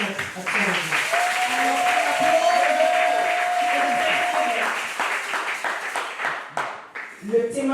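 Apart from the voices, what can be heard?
congregation applause and cheering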